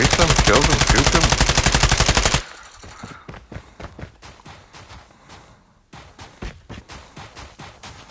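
A dense, loud burst of rapid automatic fire from a gun in Call of Duty Mobile, played on an iPhone, lasts a couple of seconds, then gives way to quieter scattered shots and clicks farther off.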